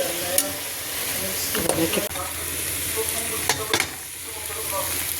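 Masala, egg, onions and tomatoes fry in a pan for a South Indian lentil kulambu, with a steady loud sizzle and a few clattering stirs and scrapes of a spoon.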